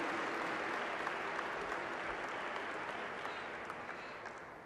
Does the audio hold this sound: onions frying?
no